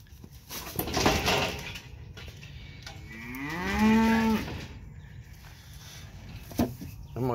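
A milk cow from a farm herd lets out one long, drawn moo that rises and falls in the middle, fairly close, amid scattered knocks and rustling around the pen and a faint voice nearby.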